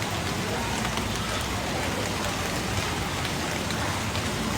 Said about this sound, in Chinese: 我们熊猫喜欢下这种毛毛细雨哈